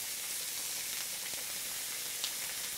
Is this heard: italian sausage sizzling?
yes